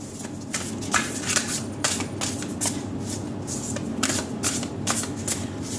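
A deck of tarot cards is shuffled by hand up close, a rapid run of crisp riffling flutters and slaps repeating steadily, with faint talk in the background.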